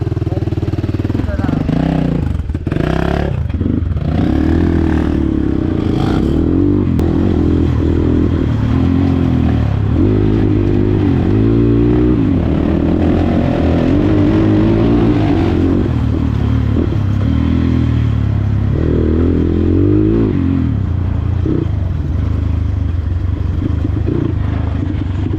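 Dirt bike engine idling and revving nearby while the bike is loaded onto a vehicle during a Makwanpur off-road ride, with clattering and scraping over the running motor and voices talking throughout.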